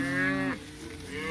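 Cattle moo loudly and close by as bulls meet cows in a large paddock on a farm, one long sustained low bellow that breaks off, followed by quieter lowing from the herd.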